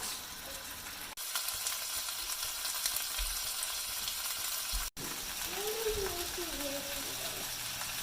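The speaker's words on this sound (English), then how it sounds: "I'm just going to brown that until it's pretty much completely" Ground pork browns in a pan, giving a steady close sizzle and crackle interrupted by a brief drop near the start and another near five seconds, with a faint voice and some scraping toward the end.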